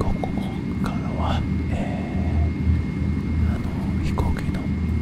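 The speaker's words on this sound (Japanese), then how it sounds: "飛行機の音だけになります。" An airplane flies past with a steady, broad low rumble that holds at an even loudness for the whole stretch, with faint hushed voice-like sounds over it.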